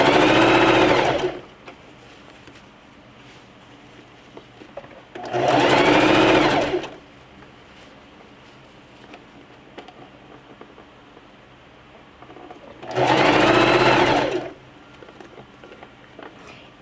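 A sewing machine stitching a fabric scrunchie: three separate bursts of fast, steady mechanical whirring, each a second or two long, close and clear with quiet handling between.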